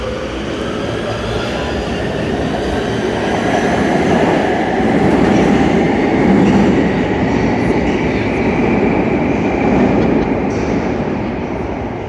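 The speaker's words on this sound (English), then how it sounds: "Let's watch this train depart." A Metro D line train departs over a track junction, a loud sustained rumble and roar of rolling wheels with faint clicking over the interlocking, steady throughout.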